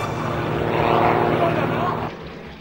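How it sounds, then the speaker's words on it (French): Aerobatic propeller airplanes at an air show roar loudly and steadily overhead, a broad engine drone that swells and then drops off toward the end. "Occasion pour chacun de s'émerveiller devant les avions de chasse ou devant les prouesses des avions de voltige"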